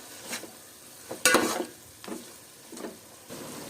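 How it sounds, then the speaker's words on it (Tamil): Mutton with whisked curd sautéing in a pan for seeraga samba mutton keema biryani, with several separate bursts of sizzling and spoon stirring scrapes, one louder crackling surge in the middle and quiet pauses between. "இப்போ மட்டன் வந்து நல்லா வதங்கணும்"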